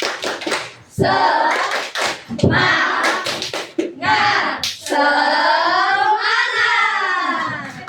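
Primary-school children in a class perform a rhythmic spirit clap, bursts of sharp unison claps in patterned groups, alternating with loud chanted voices in between.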